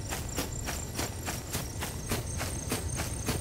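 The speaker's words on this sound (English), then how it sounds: "A horse!" Horse hooves clip-clopping in the video game Rust, a steady run of about ten evenly spaced thuds at a walking pace, moderately close, with a faint insect-like hiss behind and no talk.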